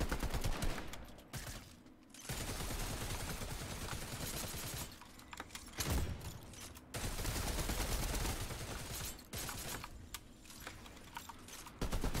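Rapid bursts of gunfire from a trick shot gun in a Fortnite zombie mode match, dense, loud and continuous with a few brief pauses, layered with game effects.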